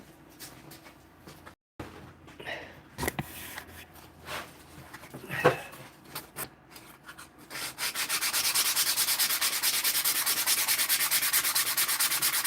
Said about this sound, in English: I need to get some sandpaper.